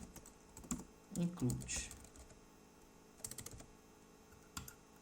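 Typing on a computer keyboard in a lesson on systems analysis: short bursts of quiet clicking keystrokes with gaps between them, and a voice speaking briefly in between.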